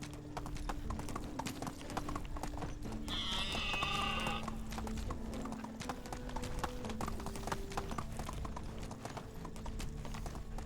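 Horse hooves clip-clop steadily in the game Medieval Dynasty, a continuous quick trotting rhythm over a bed of game ambience with brief animal calls in the background.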